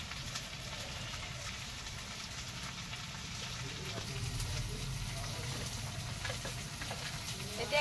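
Continuous hissing sizzle of onions frying in oil, fairly faint and steady, with light stirring noises.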